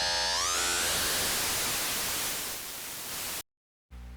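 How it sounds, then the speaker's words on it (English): A synthesizer tone sweeps upward as the filter cutoff rises and its frequency modulation speeds up, dissolving into dense, hissing white noise, holding loud before cutting to silence and briefly returning. "it just becomes chaos pretty much at that point, or I guess it sounds like white noise, really"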